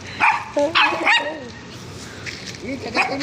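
Several imported-breed dogs bark and yip in short bursts, close by, with a few whiny cries mixed in and a voice talking in between.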